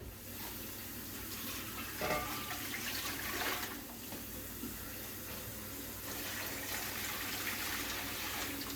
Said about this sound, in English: I'm just gonna use a quart mason jar to make sure I get the right amount of water in there.